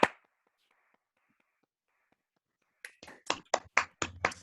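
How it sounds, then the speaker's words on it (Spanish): Sparse, scattered claps from a handful of unmuted participants in an online lecture session, one sharp clap at the start, then silence, then a quick run of uneven, close handclaps near the end. "Les invitamos a desmutearse para aplaudir al profesor."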